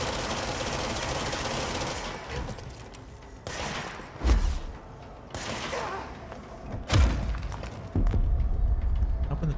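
Weapon fire in the game Control, heard as bursts of rapid shots with heavy thumps and booms at intervals against a noisy backdrop of ongoing action, loud and close, no voices.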